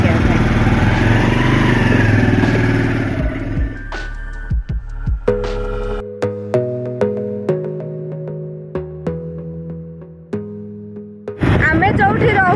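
A motorcycle rides toward the Kashipur Chaiti festival fair, its engine droning loudly for several seconds alongside a voice before fading, after which plucked melodic music takes over.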